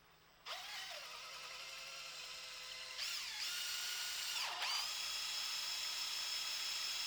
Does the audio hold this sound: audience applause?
no